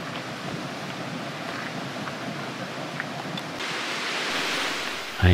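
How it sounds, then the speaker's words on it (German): At Rincón de la Vieja, an active volcano in Costa Rica, a mud geyser gives off a steady, dense rushing and bubbling noise that swells slightly toward the end, with no voices. "Ein Schlammgeysir."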